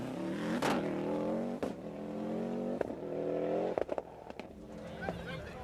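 Toyota Corolla World Rally car racing past at the 2000 Donegal International Rally in Ireland, its engine revving hard with repeated gear-change cuts and a passing roar, heard under a commentator's voice.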